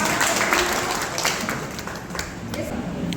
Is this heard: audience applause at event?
yes